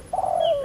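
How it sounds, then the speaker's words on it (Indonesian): A spotted dove gives a single smooth, fairly loud coo outdoors, one drawn-out call that glides slightly downward and fades near the end. "Ada burung puter ini ya."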